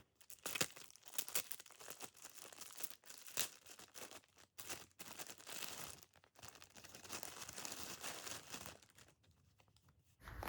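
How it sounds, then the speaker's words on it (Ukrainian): An advent calendar gift packet being opened, with close crinkling and rustling of the wrapping in uneven bursts, broken by short pauses and sharper tearing rustles. "Беру сьогоднішній пакетик і буду його відкривати."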